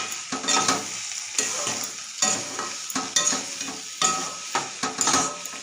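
Cabbage with garam masala and ghee is stirred in a frying pan, a spatula scraping in repeated strokes about once a second over a steady sizzle, close and with no voices.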